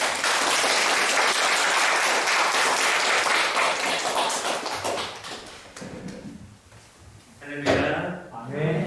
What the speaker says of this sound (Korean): 앞으로 부를 때 박수로 환영하겠습니다